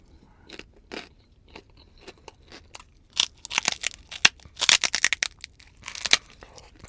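Crunchy food being bitten and chewed up close during a Bisaya-style eating challenge, with sharp crackling crunches that start sparse and grow into dense, loud bursts of mastication, with no talking.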